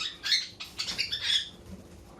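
A caged cockatiel chirps in a quick run of bright, close calls and short whistles that fade to quiet near the end.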